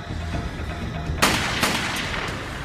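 Gunshots fired at people in a crime drama scene: one sharp, loud broadband crack followed by a second shot about half a second later, over a steady background rumble, with no voices.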